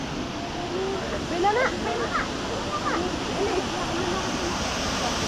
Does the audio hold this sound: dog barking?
no